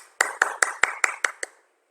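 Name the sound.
clapping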